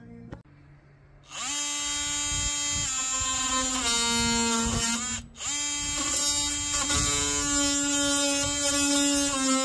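Power sander working a notch in wood during a skoolie build, a steady high-pitched whine starting after a second and running continuously with a brief dip, loud and close.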